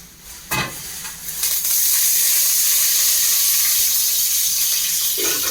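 Cinnamon, cardamom, cloves and curry leaves crackle and sizzle in hot oil for egg curry, a steady, close, loud hiss that starts with a few sharp pops and then stays constant with no talking.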